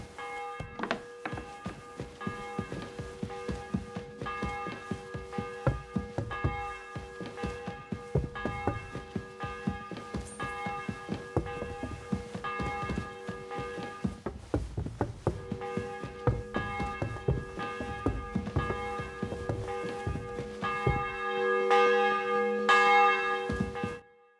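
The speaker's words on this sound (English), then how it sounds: "The bell's ringing for Hans the 5th time." Church bell tolling repeatedly in Kingdom Come: Deliverance II, a steady series of loud, resonant strikes with ringing overtones that continue for the whole stretch, growing denser and louder toward the end.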